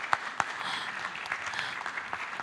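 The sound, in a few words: audience applause for the speakers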